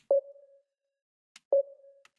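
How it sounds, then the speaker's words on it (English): A high sine-wave synth in Ableton sounds two short, clean tones about a second and a half apart. Each starts with a sharp attack, then fades over a brief sustain, with faint clicks between them. "I then have just a second sine wave, but this one is a bit more in the high frequency."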